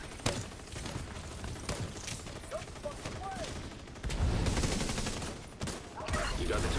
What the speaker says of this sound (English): It's so hard to shoot that thing with a shotgun.